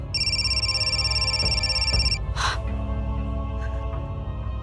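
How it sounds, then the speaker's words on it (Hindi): A telephone rings with a bright electronic trill for about two seconds over a low steady hum, then stops. A short gasp or breath follows. "कौशिक, मैं कब से फोन कर रही हूँ, फोन क्यों नहीं उठा रहे थे?"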